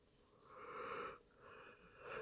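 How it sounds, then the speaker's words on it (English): A quiet, breathy yawn, a drawn-out soft exhale swelling and fading, followed by a second shorter breath, close and faint. "damn, another yawn"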